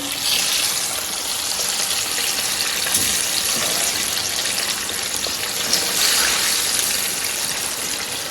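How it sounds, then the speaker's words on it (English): Sliced plantain frying in hot coconut oil gives a steady, dense, crackling sizzle that stays loud and even throughout, with no talking over it. "Let's fry our plantain."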